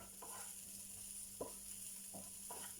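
Faint sizzling of onions frying in a pan for a Kerala fish curry, with soft intermittent scrapes and clicks of stirring repeating every half second or so over a steady high hiss.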